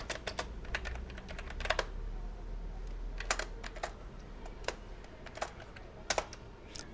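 Typing on a computer keyboard while entering Python code: irregular bursts of crisp key clicks, close and clear over quiet room tone.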